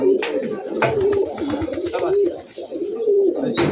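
A flock of Rajshahi Giribaz pigeons coos steadily and close by while being fed, the low rolling calls repeating in overlapping waves with some scattered background noise.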